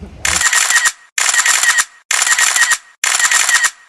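Camera shutter firing in four rapid mechanical bursts, each a loud whirring clatter lasting about half a second with short silent gaps between.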